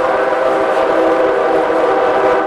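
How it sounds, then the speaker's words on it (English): A passing train at night gives a steady, loud tonal drone, like a sustained horn or wheel squeal, holding evenly the whole time with no voices. "As the trains come and go throughout the night"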